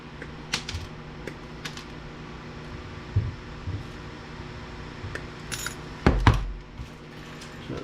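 Diagonal cutters snipping small wires inside a scrapped VCR DVD combo unit, heard as scattered sharp metallic clicks and snaps over a low steady hum, with a louder cluster of cuts near the end.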